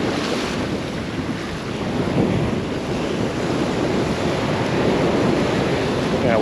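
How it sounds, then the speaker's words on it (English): Rough sea at a Maldives island resort: waves wash and roll steadily, with strong wind buffeting the microphone in a continuous roar. "Little rough seas right now."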